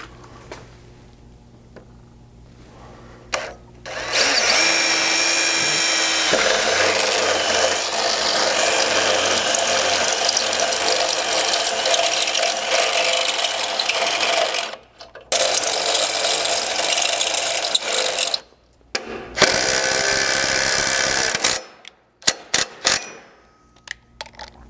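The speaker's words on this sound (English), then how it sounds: "if you don't have something like this right angle drill" Right angle drill running bracket bolts into a 100 Series Land Cruiser frame during a slider install: long loud ratcheting, whirring bursts with brief pauses between runs, close up, no talk.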